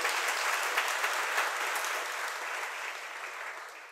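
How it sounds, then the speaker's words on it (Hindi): A crowd applauds during a Jain sermon in Shirpur, a dense, even patter of many hands that holds steady and then slowly tapers off without any talk. "ये बीच बीच में तो आप लोग ताली बजाते हैं ना"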